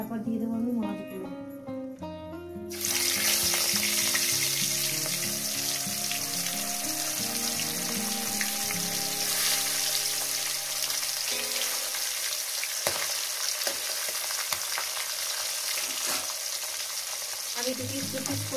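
Fish drops into hot oil with a sudden loud burst of sizzling after an opening stretch of music, the frying hiss staying dense and steady afterward with some occasional clatter and background music.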